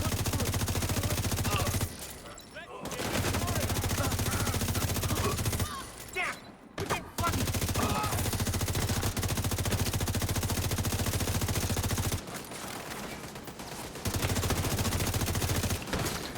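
Shotgun fire from a video game rings out in long, dense bursts of loud, broadband blasts that nearly fill the stretch. Two brief lulls break the sound, and no one speaks over it.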